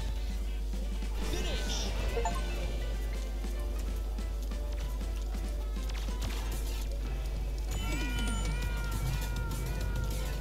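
A cat meows repeatedly in the racing game Tower Unite, rising and falling cries over busy game music and effects, with players talking in the background.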